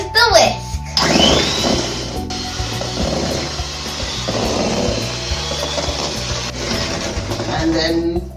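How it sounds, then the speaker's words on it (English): An electric whisk beats a batter mixture until fluffy, a steady close whirring mechanical drone running almost the whole time with small shifts in pitch and load and a brief pause near the start, voices heard only faintly under it. "Now we're going to whisk until it's fluffy."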